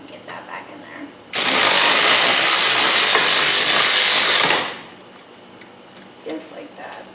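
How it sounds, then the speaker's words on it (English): A cordless power tool whirs in one loud, steady burst of about three seconds while fitting a part back in during a brake repair, then winds down; quiet talk and shuffling surround it. "So now you're going to use the cordless tool"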